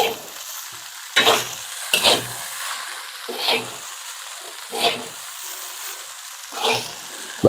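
Repeated bursts of stirring and scraping as kimchi fried rice is stir-fried in a pan over steady sizzling, roughly every second or so, close and fairly loud.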